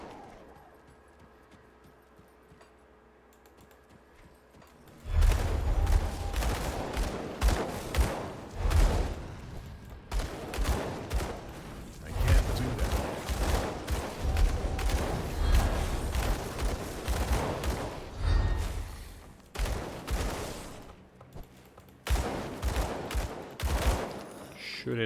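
Rapid dual-pistol gunfire in the action RPG Grim Dawn erupts after a quiet opening, a loud, fast barrage of sharp shots with brief pauses and bursts continuing to the end, with someone talking over it.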